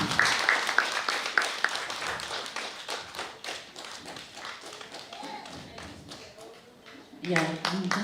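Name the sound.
audience clapping for a speaker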